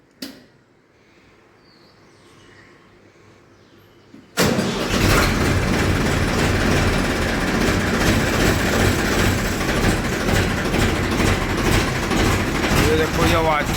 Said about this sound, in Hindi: तो दोस्तों स्टार्ट कर लेते हैं ट्रैक्टर को